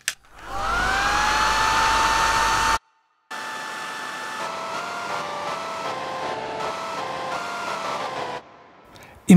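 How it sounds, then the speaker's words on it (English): A hair dryer blows with a steady, loud whooshing roar, stops briefly, then restarts with a whining motor tone that shifts pitch before cutting off. "Imagine that sound of this hairdryer can be playable."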